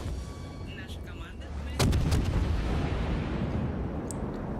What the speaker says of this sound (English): the Baltimore's giving you a good broadside